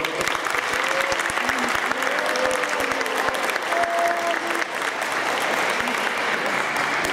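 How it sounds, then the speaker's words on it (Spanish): A crowd gives loud, sustained applause for a school director at a science fair award ceremony, steady dense clapping over about seven seconds with a few voices and tones rising through it. "Llevo un fuerte aplauso para ella"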